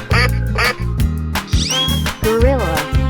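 Duck quacking in a 3D animal slide video game: several nasal quacks, with one longer wavering call near the end, over bouncy looping background music.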